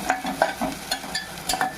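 Onions frying in a pan for mutton curry, a close sizzle broken by rhythmic spatula scrapes and light taps, no talk.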